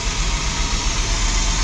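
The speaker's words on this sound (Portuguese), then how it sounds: "Consegui furar o escapamento passando em quebra-mola" Car engine with a punctured exhaust, holed by scraping over a speed bump, runs with a loud, steady, rough roar and broadband rumble, close up with no talk.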